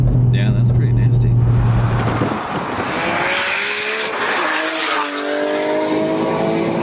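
A 660hp Nissan R32 GTR revs hard nearby, a loud roaring engine with a steady drone that sweeps and shifts in pitch, while people talk over it.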